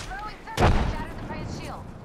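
In a ranked video game match, one loud gunshot bursts out in the middle of the stretch, with a voice talking before and after it.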